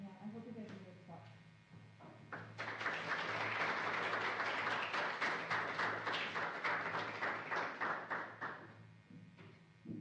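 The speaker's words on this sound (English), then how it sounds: "Thanks for clapping before I do anything." Audience applause before a university-style science talk: a dense burst of many hands clapping swells after a couple of seconds, holds steady and loud, then thins out toward the end, with a few scattered claps and faint voices at the start.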